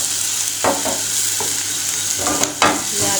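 Raisins fry in a pan of hot oil for Afghani Kabuli chicken pulao, giving a steady hiss with a few louder scraping stirs near the end, close and with no voices.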